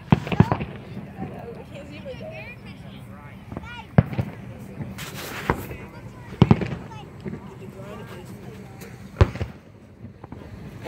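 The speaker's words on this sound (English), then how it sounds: "These are good fireworks right here." Fourth of July fireworks crack and pop in scattered sharp bursts over a steady background hiss, with people talking throughout.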